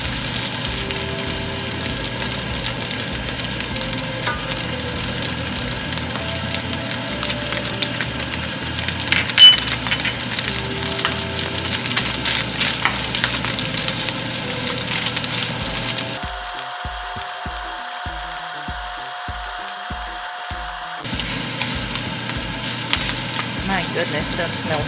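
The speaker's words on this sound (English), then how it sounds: "So I'm going to move aside so I can saute the garlic." Garlic sautéing in rendered ground-pork fat in a pan, a steady crackling sizzle with scraping and stirring throughout, interrupted by a brief shift in tone partway before the frying resumes.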